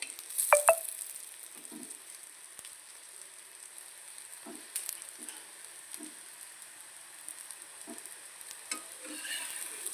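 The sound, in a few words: vegetable batter flatbread frying in oil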